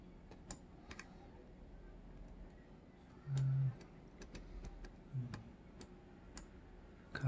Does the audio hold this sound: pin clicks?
yes